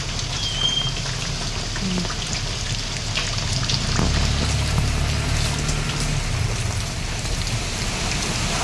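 Heavy rain pours steadily during Typhoon Enteng in Vigan City, amid strong winds, as a dense, even hiss close by with a faint low rumble underneath and no voices.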